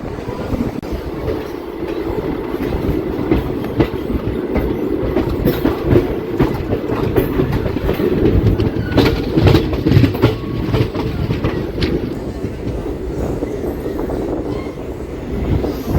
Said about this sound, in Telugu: 1వ నెంబర్ ప్లాట్ఫామ్ లాగింది మన ట్రైను